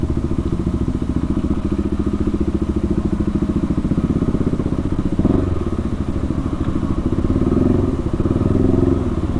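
A 2022 KTM RC 390 with its catalytic converter deleted is ridden along, its single-cylinder engine thrumming loud and steady at cruising revs, with brief surges and a thump midway.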